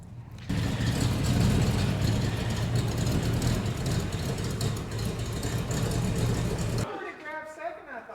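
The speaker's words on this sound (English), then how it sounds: "That's a long burnout." A 1970 Chevy Blazer engine rumbles loudly and steadily at close range just after a burnout, a thick mid-pitched roar that cuts off abruptly and leaves only a faint mechanical rattle while people talk.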